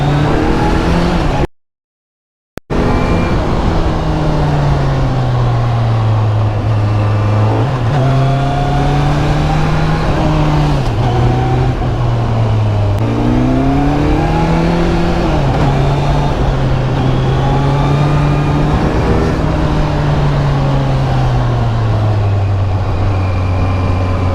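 A Kawasaki Z900 motorcycle ridden hard on a Mussoorie highway, its engine loud and close with sustained revving that rises and falls through gear changes, under steady wind rush, after a brief dropout at the start.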